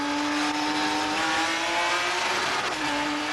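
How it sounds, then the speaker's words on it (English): Onboard engine of a 1996 Eurocar V6/V8 championship race car at the start of a race at Brands Hatch, a loud sustained high-revving drone with shifting pitch and faint tire noise, no talking. "On board then with Phil White for the start of race one"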